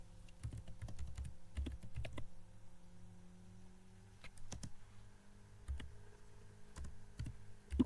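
Fingers type on a computer keyboard in short bursts of crisp clicks separated by brief pauses, close and fairly quiet, with a soft hum underneath.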